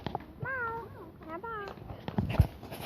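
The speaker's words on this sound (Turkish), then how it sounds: "burada miyav? var Mia." A cat meows twice in drawn-out, wavering cries, close by, followed by some soft handling noises and rustling.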